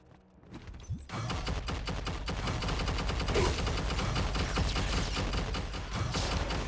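Rapid pistol gunfire in the action RPG Wolcen: Lords of Mayhem, a dense burst of shots starting after a quiet second and continuing loudly and steadily to the end.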